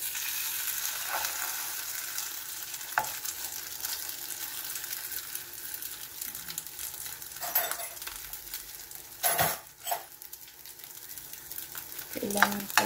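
A rice patty fries in a hot pan with a steady broadband sizzle throughout, broken by a few soft clinks and utensil taps near the end; no one speaks.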